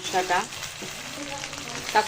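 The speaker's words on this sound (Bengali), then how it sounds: "কাঁচা মশলাটা ভালো করে ভেজে নিব" Raw spice paste frying in a pan gives a continuous near sizzle, with a couple of louder scraping stirs near the start and end; no one speaks.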